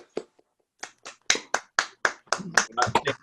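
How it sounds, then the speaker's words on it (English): Sparse, individual hand claps, likely from a few remote attendees, for lecturer Dr. Murray Cook after a talk on Stirling's brochs, starting as isolated claps and building into a quicker cluster of distinct, close claps. "if you want to give Murray a round of applause, that'd be great"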